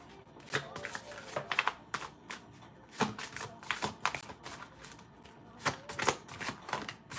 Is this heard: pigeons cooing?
no